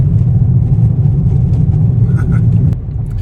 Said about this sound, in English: Crazy, we're driving on runway Able.